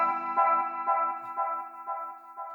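A soft synth pad with a modulated filter cutoff swells in repeating pulses about every half second, a quiet sustained tone with rhythmic brightening.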